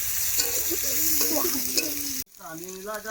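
Chopped onions frying in a pan, a loud steady sizzle that cuts off abruptly, followed by a voice singing nearby.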